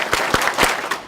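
An audience claps in unison, several sharp separate claps spaced evenly within about a second, loud and close in a hall.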